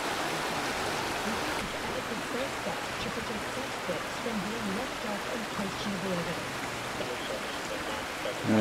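Steady rushing and babbling of the Rusty River, a brook in Queenstown, flowing close by, continuous and even, with faint voices murmuring underneath.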